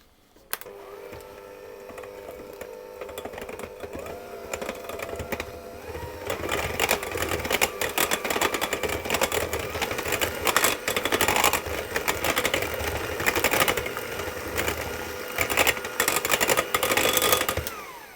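An electric mixer whirs into muffin batter as orange juice and vanilla extract are blended in, a steady loud motor drone with rattling beater clatter that starts after a brief tone and runs to the end.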